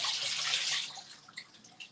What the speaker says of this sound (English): So we're gonna turn off this water.